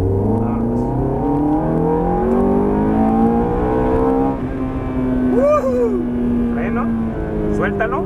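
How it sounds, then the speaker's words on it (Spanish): An exotic sports car accelerates at full throttle with a loud, steady engine roar whose pitch climbs through rising harmonics and then holds high, while an instructor talks over it throughout. "Vamos a acelerar. Eso, vámonos, acelerador a fondo."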